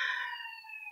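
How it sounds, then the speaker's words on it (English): A police siren wails on a New York City street, one continuous loud tone that holds steady for about a second with no voices. "And I apologize for the sirens in the background."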